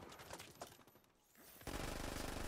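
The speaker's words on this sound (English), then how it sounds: "So who's shooting?" Dense automatic gunfire in the video game Division 2 rattles in rapid bursts, dips briefly, then resumes as a loud sustained volley near the end.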